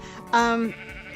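A sheep in the Farming Valley video game lets out a single short, clear bleat, loud and close, lasting under half a second against a quiet background.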